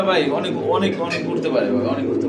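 Girra pigeons coo softly in the background while people talk over them nearby.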